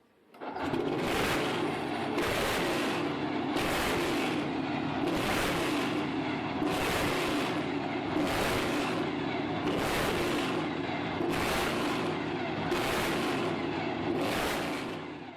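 Engine of a Mercedes-Benz W125 Silver Arrow racing car, a roughly 640-horsepower prewar machine, roaring in a series of repeated loud revving bursts at a steady rhythm, heard on its own without voices.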